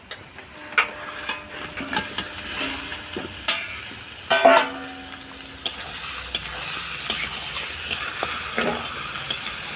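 Mutton added to fried onions in a pan over a wood fire sizzles softly while a utensil scrapes and knocks intermittently, producing irregular stirring clatters close by without speech.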